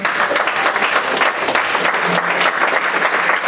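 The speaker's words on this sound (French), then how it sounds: "Acclamons Jésus pour sa parole." A church congregation claps together in loud, continuous applause that fills the room with dense rhythmic clapping for several seconds.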